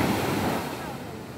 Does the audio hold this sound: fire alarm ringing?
no